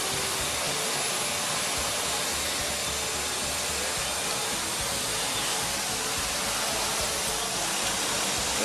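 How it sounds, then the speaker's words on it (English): Steady, dense mechanical hum fills the main sewing room of the Nishat Apparel Unit 1 garment factory, a continuous even roar of many machines with no single sound standing out. "Now we are going to enter in the main sewing room."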